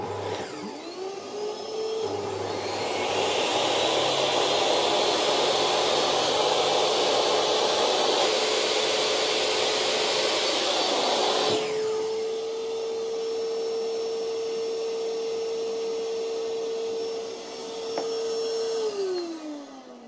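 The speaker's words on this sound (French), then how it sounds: "quand je vais allumer la scie, ça va allumer l'aspirateur" An electric saw runs with its connected vacuum cleaner, both powered from an EcoFlow battery while a GiFi shelf is rebuilt. Motors whine up into a steady close roar, the tone shifts midway, and they wind down at the end.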